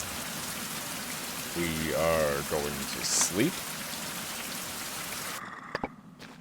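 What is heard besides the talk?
rain falling on island in video game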